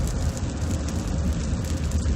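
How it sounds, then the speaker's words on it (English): Rain beats on a 2016 Honda Pilot driving at about 45 miles an hour, a dense constant patter over a low road rumble, loud and unbroken throughout. "The rain is fairly loud. You guys can probably hear that."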